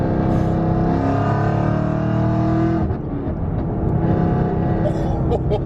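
A 1000 horsepower Camaro ZL1 accelerates hard, its engine roaring loud and close with a steady rising drone, a brief dip like a gear change about halfway, then pulling strongly again.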